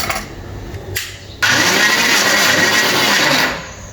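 A mixer grinder whirs loudly as it grinds unniappam batter, starting with a short burst, then running steadily and evenly before trailing off near the end, with no voices over it.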